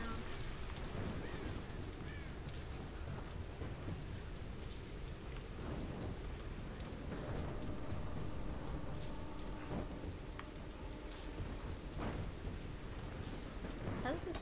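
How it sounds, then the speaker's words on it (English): Steady rain pattering on surfaces with rolling rumbles of thunder in the Tomb Raider video game, a dense continuous wash at moderate level with no speech. "I hate the rain, it's just so depressing."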